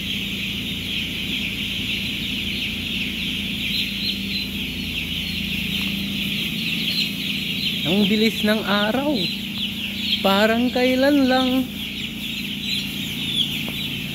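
Broiler chickens cluck and chatter steadily close by in a tunnel-building farm, with a person speaking briefly over them partway through.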